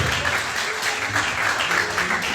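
Audience applause from a seated crowd greeting personal-development coach Queen Albi as she stands; steady dense clapping, continuous and moderately loud throughout, without talk.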